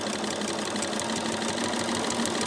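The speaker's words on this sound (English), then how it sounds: "Going to do a little back stitch and now go forward." A sewing machine stitches a quilted fabric advent calendar, running as a fast, steady mechanical whir with a rapid needle rhythm, close and uninterrupted for the whole stretch.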